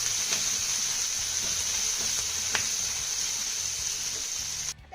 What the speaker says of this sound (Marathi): आता यामध्ये ना आपण 2 चिरलेल्या हिरव्या मिरच्या घालूया. या देखील आपण चांगलं परतून घेऊया.